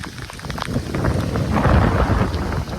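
Heavy rain pours down loudly with a deep rolling rumble of thunder swelling underneath, close and continuous.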